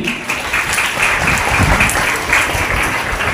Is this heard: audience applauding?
yes